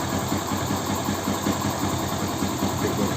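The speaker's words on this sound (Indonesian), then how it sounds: "mesin sudah hidup" Yamaha Byson motorcycle engine idling after being taken apart and reassembled, a steady close rumble with a fast even mechanical throb and no voices.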